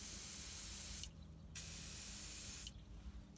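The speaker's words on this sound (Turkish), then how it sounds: "Amortisör alt civatasını rahat sökebilmek için üzerine pas sökücü sprey sıkıyorum." Rust remover sprayed onto a car's rear shock absorber lower bolt, a Renault Megane 3 or Fluence, in two close, steady hissing bursts, the first about a second long and the second longer, with short pauses between.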